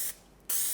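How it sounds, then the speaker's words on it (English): TensorGrip aerosol adhesive spray can hissing in two bursts, a short spray cut off by a brief pause, then a second loud, steady spray held from about ten centimetres away. "When I spray my web spray, a nice pace 10 centimeters away"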